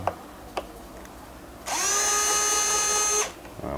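A SOARFLY mini cordless screwdriver drill whirs steadily for about a second and a half as it unscrews a screw, a high motor whine close up, preceded by a couple of small clicks.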